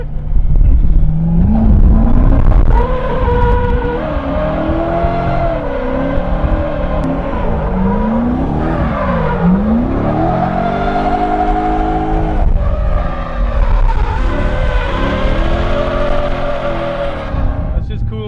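Corvette fitted with new parts roars hard on a race track during a track day, engine pitch climbing and dropping through repeated gear changes, loud and close throughout, with tires squealing at moments.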